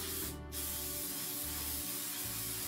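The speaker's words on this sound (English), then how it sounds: "So I'm gonna spray." A steady aerosol spray of clear sealant hisses continuously at close range, with a brief pause near the start.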